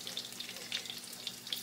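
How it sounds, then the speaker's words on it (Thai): Garlic stir-frying in a pan for a Thai curry dish, a steady close crackling sizzle with light scraping from stirring, alone without talk. "ตอนนี้พี่ก็เอากระเทียมลงไปพัดก่อนเนาะ"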